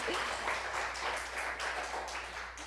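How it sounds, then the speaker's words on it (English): A congregation at a spiritual centre's service claps for the sound team, a moderate, continuous round of applause with audible individual hand strikes, steady and unaccompanied by talk. "Let's give them a round of applause."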